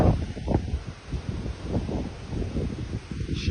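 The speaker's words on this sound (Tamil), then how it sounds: "வேற லெவல் காத்து அடிக்குது." Strong wind during a dust storm in Qatar before dawn roars and buffets the microphone in uneven gusts, a loud rumbling rush with no clear talk over it.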